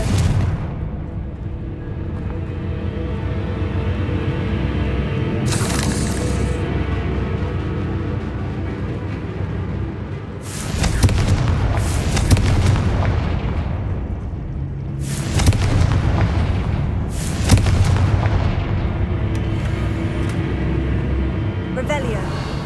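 Confringo spell blasts in the video game Hogwarts Legacy land as several loud, booming bursts spaced a few seconds apart over a continuous low rumble, with a voice speaking in between.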